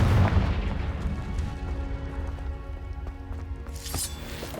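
The Confringo blasting curse goes off in Hogwarts Legacy, a fantasy spell-casting game. Booming, crackling bursts land over a rumbling backdrop, and a sharp, bright blast flares up near the end.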